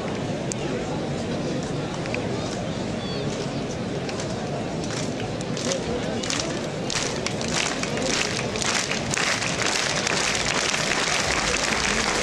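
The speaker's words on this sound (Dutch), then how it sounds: "En het publiek begint weer te klappen." A billiards final audience claps in a dense, sustained round of applause that fills the whole stretch, steady and fairly loud, with a commentator talking over it.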